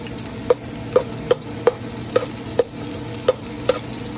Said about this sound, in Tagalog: Yung luya muna yung aking igigisa.